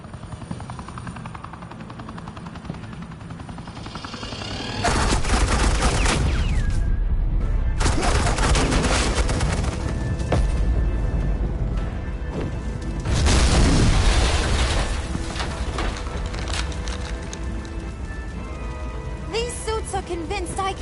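Gunfire and explosions from the Batman Telltale Series game: a loud roar of heavy booms and rapid bursts over a constant helicopter-like drone, swelling in two intense waves before easing off.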